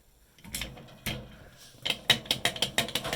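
A hand-filed key works a Folger Adams prison latch, giving a few sharp metallic clunks and then a quick run of ratcheting clicks, close and clear with no speech.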